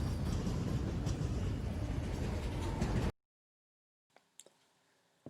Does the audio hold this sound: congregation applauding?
no